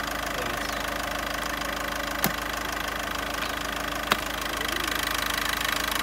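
Volkswagen Polo 1.6 engine with a downpipe exhaust, running steadily with a loud, constant rumble and slight knock, broken by two sharp clicks, with no talk.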